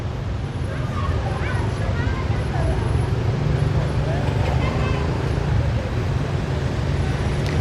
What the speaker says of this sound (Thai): รถติดหลายทุกคนเอ้ยพุ่นน่ะ รถหลายแฮงทุกคน